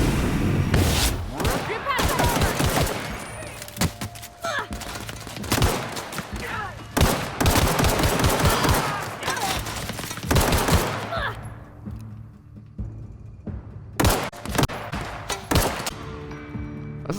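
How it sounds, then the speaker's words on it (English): Machine gun fire and gunshots from The Outer Worlds video game come in loud repeated bursts with brief pauses between them, close and dense, with a quieter stretch near the end. "this guy's got a machine gun"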